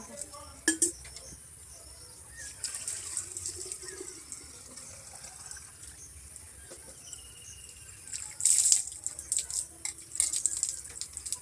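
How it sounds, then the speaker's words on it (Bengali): A small oil lamp is scrubbed and rinsed at a tap before temple worship, with quiet running water, scraping, and sharp metallic clinks and rattles, loudest near the end, close and without speech. "এবারে প্রদীপটা একটু মেজে নিই তারপরে মন্দির ঢুকবো"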